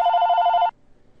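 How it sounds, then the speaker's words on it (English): A single warbling electronic phone ring sounds close and loud for under a second, then stops abruptly into near silence. "Sorry, that's my phone ringing here."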